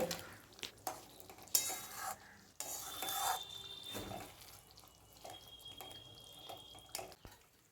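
Fried fish pieces turned and coated in thick gravy in a kadai: soft scraping stirs and clinks of a spoon against the pan in bursts, with a faint hiss, fairly quiet.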